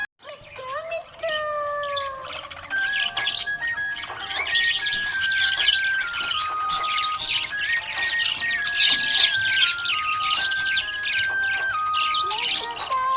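A budgie chirps and squawks in quick, bright bursts, heard up close over a sung Hindi children's tune with steady melodic vocals.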